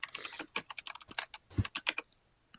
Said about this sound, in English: Can I hear typing?